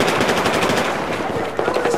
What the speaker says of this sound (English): Getting shot from mid.